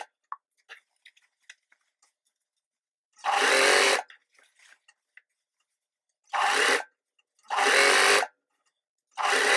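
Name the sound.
sewing machine sewing a curved seam on fabric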